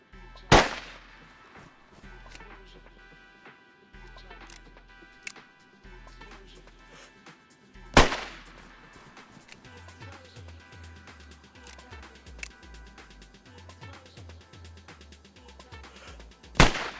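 A Longhorn pistol in the game DayZ fires three sharp, loud single shots spaced several seconds apart, each ringing out over quiet ambient hum and low pulsing background sounds.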